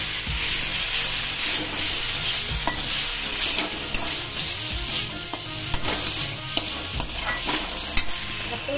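Vegetable curry sautéing in a pan, a steady loud sizzle of frying with repeated scraping and stirring strokes throughout, no voices.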